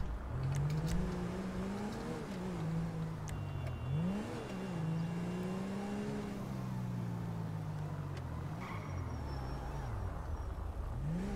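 A car engine in GTA 5 driven through city streets, a steady mid-pitched drone that rises and falls with repeated throttle swells and gear changes, continuous and close.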